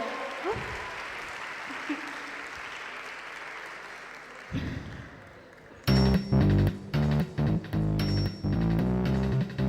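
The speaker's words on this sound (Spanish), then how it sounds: "un fuerte aplauso para Tenshi, por favor" Crowd applause at a karaoke contest during an anime and manga event, a broad wash of clapping that thins out over several seconds, followed by loud music starting up in bursts.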